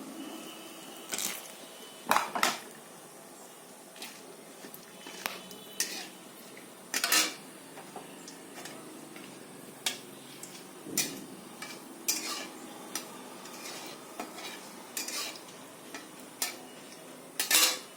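Whole spices — bay leaf, garam masala, cardamom, cinnamon and cloves — dropped into hot oil in a pan for chicken curry with potatoes, giving scattered clinks, scrapes and light sizzling bursts at close range with no talk.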